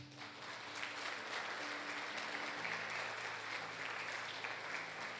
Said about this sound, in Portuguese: Coloca no teu coração e aplauda Jesus.